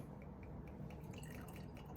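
Blanton's Single Barrel bourbon poured into a glass, a steady close liquid trickle and drip running without pause, with no voices over it.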